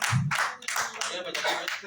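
Audience clapping at an office branch unit meeting in Delhi, a short burst of bright, close hand claps in uneven bunches with a voice briefly underneath.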